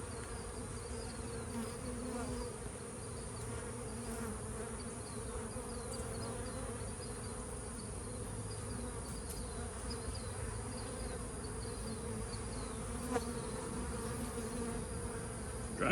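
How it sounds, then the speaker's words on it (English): Dense, steady drone of honeybees buzzing around a nuc being taken off a tree outdoors, a continuous close swarm hum with individual bees flitting past, no talking. "Trying to get all the bees out"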